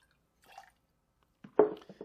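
Freshly squeezed lemon juice is poured out for a spicy jalapeño vodka cocktail, giving a short faint trickle and then a louder wet splash with a few drips, all close by with no voices.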